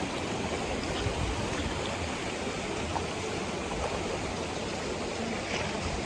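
Footsteps wading through a cold, shallow stream over sand, the water splashing and rushing steadily and loudly all around with no break.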